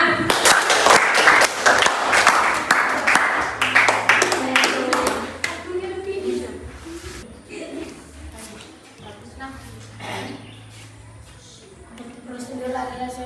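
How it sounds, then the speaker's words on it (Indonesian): A classroom group claps together at the end of a cooking-procedure lesson, loud and dense for about five seconds, then fades into scattered voices and room noise with a few softer claps. "Kasih tepuk tangan."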